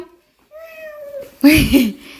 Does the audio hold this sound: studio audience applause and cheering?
no